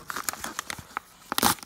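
A mail package from an eBay order of baseball cards being opened, with bursts of crinkling and tearing of packaging up close, ending in a louder rip.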